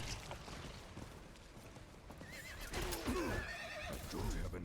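A horse in a video game whinnies loudly and clearly, with hoof clip-clops and game sounds in the background, the neigh rising and falling in a long, wavering call.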